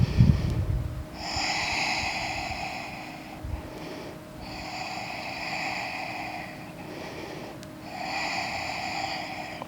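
Slow, steady breaths held during a yoga leg-mobility pose, three long drawn airy exhalations with short pauses between, close and fairly quiet, no talking.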